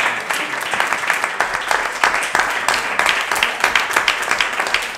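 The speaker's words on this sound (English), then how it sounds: "Can we have a round of applause for Scott Kellogg," A room full of listeners claps for the moderator of a panel at the end of a talk, a dense, even wash of hands lasting several seconds with small peaks of sharper claps and no voices over it.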